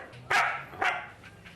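A dog gives two loud, sharp barks close by, the second following about half a second after the first, with a faint hum underneath.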